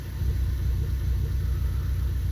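A Ford Focus ST engine idles steadily, a continuous low rumble close by with no talk, while the car runs after a purge valve repair.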